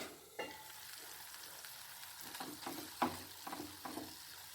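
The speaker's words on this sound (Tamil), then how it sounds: "கீரையை சேர்த்து நல்லா வதக்கிடுவோம்" Kayal greens sauté in a pan over a low flame, giving a faint, steady sizzle. A handful of soft scraping stirs come through near the end.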